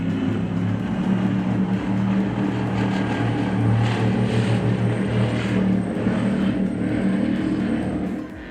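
A 48-foot MTI powerboat with Mercury Racing 1550 engines runs at a Key West poker run. It gives a loud, sustained roar that swells and holds steady as it passes.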